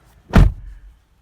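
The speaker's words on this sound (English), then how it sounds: "So, shutting the door." A single solid thunk as the door of a 2020 Kia Telluride S AWD shuts, close and loud, with a brief low rattle after, then quiet.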